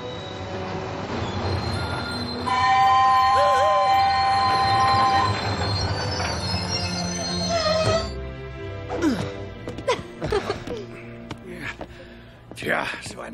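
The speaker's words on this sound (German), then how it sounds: "Der Zug verliert Geschwindigkeit." A train slows down on the rails with loud, sustained high-pitched wheel squeals and a rumbling carriage bed, followed by fading clatter as it decelerates. Voices speak over the later part.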